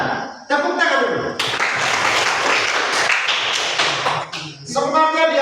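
A classroom breaks into a burst of applause lasting about three seconds, with voices speaking just before and after the clapping.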